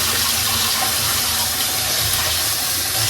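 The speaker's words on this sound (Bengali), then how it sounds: "আর মাছটাকে ধুয়ে পরিষ্কার করে রেখে দিই" Tap water runs loud and close without pause as fish pieces are washed clean, a dense, steady rushing gush with no voices.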